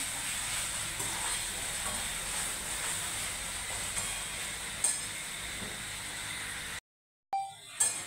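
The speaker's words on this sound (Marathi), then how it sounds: "हे बघा, आपला टमॅटो आणि कांदा छान परतून झालेला आहे।" Onion and tomato frying in a pan give a steady, close sizzling hiss that runs unbroken for several seconds, then drops out briefly before returning with a few sharper crackles.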